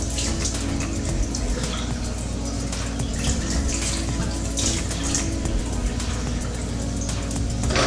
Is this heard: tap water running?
yes